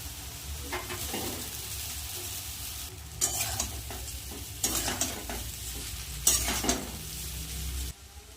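Vegetarian chowmein is stir-fried with salt and Maggi masala, with repeated scraping stirs over a steady sizzle, close up and without talking.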